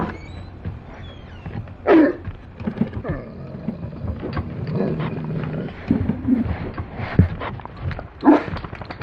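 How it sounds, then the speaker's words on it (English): A big dog barks in a few loud, separate bursts against a low, murmuring background, with quieter rumbling and creaking sounds in between. "One big dog."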